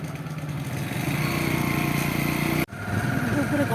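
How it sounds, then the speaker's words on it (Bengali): A motorbike engine runs loud and close during a ride home, a steady buzzing drone that cuts out abruptly for an instant and then resumes at the same level. "এই যে বাইকে উঠে গেলাম, এখন চলে যাচ্ছি বাড়িতে"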